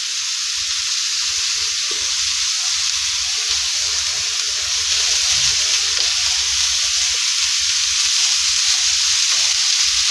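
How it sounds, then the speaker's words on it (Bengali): Tomato, carrot, capsicum, coriander and green chilli stir-fry in a hot pan with a strong, steady sizzle and hiss, a spatula scraping and stirring underneath, close and continuous for the whole stretch. "এগুলোকে ততক্ষণ পর্যন্ত নাড়াচাড়া করব যতক্ষণ পর্যন্ত না এদের কাঁচা গন্ধটা চলে যাচ্ছে।"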